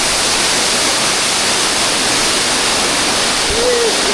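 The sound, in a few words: mountain waterfall and strong wind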